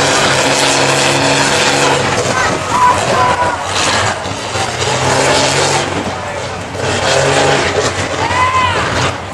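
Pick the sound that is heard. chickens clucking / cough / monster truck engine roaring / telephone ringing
monster truck engine roaring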